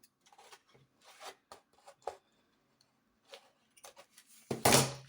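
Scissors snip through excess cord on a handmade almanac fastener, a few faint rasping rubs followed by one louder, closer crisp cut near the end, with quiet handling between.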